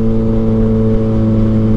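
Suzuki GSX-S1000 motorcycle, freshly reflashed and rated at 150 hp, pulling under acceleration while ridden, a steady loud engine drone with strong low harmonics running continuously, no speech.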